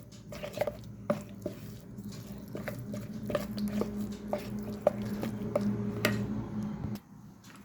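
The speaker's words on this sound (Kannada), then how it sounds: "ಈಗ ಇದನ್ನು ಒಂದು ಸ್ಪೂನಿಂದ ಕ್ಲೀನಾಗಿ ಮಿಕ್ಸ್ ಮಾಡ್ತೇನೆ" A spoon stirs a thick batter of semolina, milk and curd for a jaggery cake, making soft, wet squishing scrapes and light taps against the bowl in an uneven rhythm. The sounds are close and quiet, with no talking.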